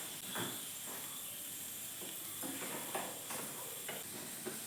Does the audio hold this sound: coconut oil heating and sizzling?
yes